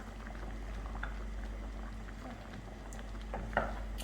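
A pot of Nigerian soup simmers on the stove, a steady low bubbling and popping with a constant hum beneath it, quiet and with no talk.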